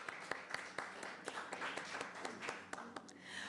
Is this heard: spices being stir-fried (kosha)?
no